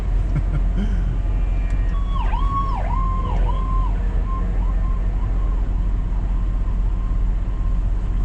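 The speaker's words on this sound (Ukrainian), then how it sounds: "Це не швидка вже приїхала, амбуланс." An ambulance siren in New Brunswick, Canada wails with rising and falling sweeps over steady traffic rumble, fading after a few cycles.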